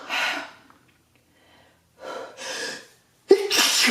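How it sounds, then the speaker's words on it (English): Hard sneezing by one person, three bursts: one early, a double one in the middle, and a loud sharp final sneeze, close and with pauses between. "I keep sneezing, and I'm not sneezing lightly. I am sneezing so hard that it hurts."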